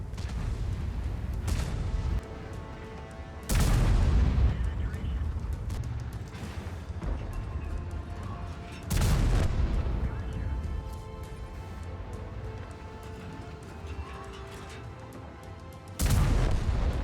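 Heavy tank cannon shots in a video game, four loud booming blasts spaced several seconds apart, each with a long rumbling tail over a steady low engine drone.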